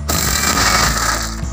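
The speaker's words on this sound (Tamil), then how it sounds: "இப்போ மிக்சியில் பூண்டு, பச்சை மிளகாய், சோம்பு எல்லாம் போட்டு கொஞ்சம் அரைச்சிக்கோங்க." Mixer grinder blending garlic, green chilli and fennel, a loud steady whirring grind running without a break, starting abruptly and holding close up with no talk.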